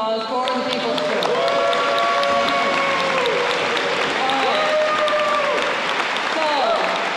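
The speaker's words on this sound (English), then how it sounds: "Let's give a big round of applause for the People's Church." An audience at a People's Church gathering claps in a dense, sustained round of applause that holds steady throughout, with whoops and scattered voices rising over the clapping.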